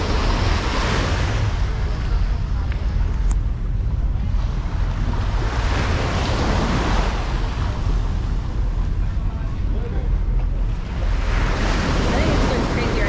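Surf rolls in at El Nido Beach, Palawan, a continuous wash of waves swelling and receding with heavy wind rumble over the microphone.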